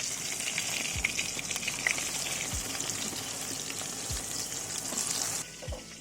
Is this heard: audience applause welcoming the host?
no